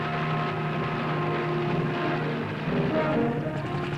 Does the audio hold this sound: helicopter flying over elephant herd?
yes